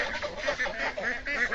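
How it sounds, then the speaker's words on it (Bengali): Ducks quacking as they are herded into a village lake, a steady run of overlapping nasal quacks from a nearby flock with no talk. "হাঁসগুলা নামামু।"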